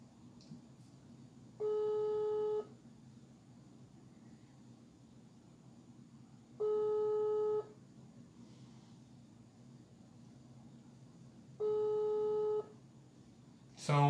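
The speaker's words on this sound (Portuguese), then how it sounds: "Ligar para o Mário Sérgio." A telephone line gives three evenly spaced tones about five seconds apart, each a steady one-second buzz over faint background hiss, like a call signal heard while dialing, with no talking.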